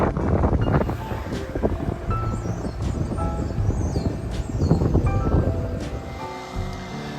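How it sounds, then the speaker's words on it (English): Steady wind buffets the microphone outdoors in sunny rural vineyard countryside in France, a continuous rumbling gust with faint rustling and a brief voice underneath. "as you can hear it's a bit windy"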